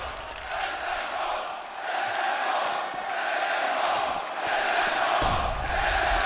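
Large arena crowd at a CS:GO Major semi-final roaring and cheering continuously, a loud sustained wash of voices with swelling peaks throughout.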